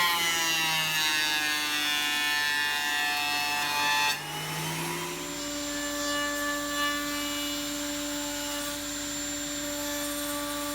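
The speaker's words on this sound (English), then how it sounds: "fed them through the thicknesser to clean up the saw marks" A thicknesser planes wooden seat slats, a loud droning machine whine with steady tonal hum; a slat feeding through shifts the pitch partway, and the grinding roar continues evenly without speech.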